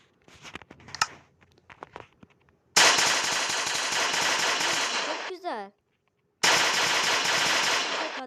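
Two long bursts of rapid Uzi gunfire in Minecraft, loud and continuous, separated by a short gap, after some quieter clicks and handling noises.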